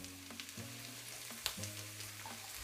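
Sweet smoked paprika from La Vera and saffron threads sizzle in hot oil in a pan, a quiet, steady frying hiss with a faint hum and occasional soft ticks, close and alone.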